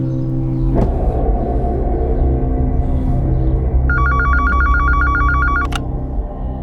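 A telephone at a hospital rings in one loud electronic trilling burst lasting under two seconds, heard over a low steady rumble in a crime drama scene.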